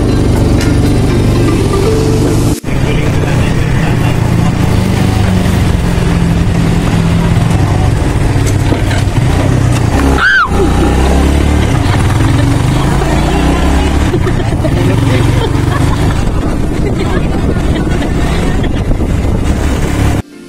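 A motorized tricycle's engine drones loudly and continuously while riding along a rough road, heavy wind buffeting the microphone, with brief voices and a sharp jolt midway.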